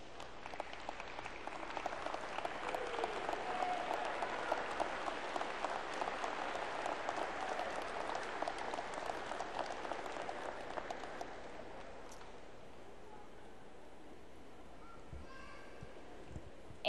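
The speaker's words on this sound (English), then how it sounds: "give them a round of applause" Audience at a law school spring hooding ceremony applauding, a broad, even wash of clapping from a large crowd that holds for about eleven seconds, then fades into quieter hall ambience.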